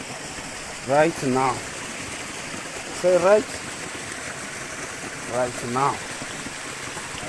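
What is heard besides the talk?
waterfall with crystal-cold water falling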